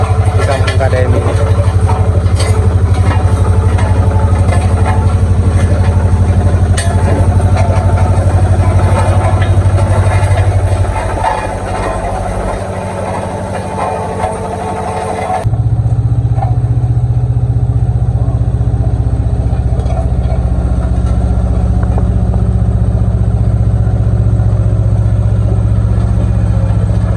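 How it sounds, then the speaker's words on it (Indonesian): A road roller arrives for paving-block road work in a village in Sukabumi, its heavy engine rumbling and idling loudly and continuously close by, with a voice talking over it. "Mesin gelindingnya mulai turun guys di kampung KDM Sukabumi untuk pengerjaan jalan paving block ya"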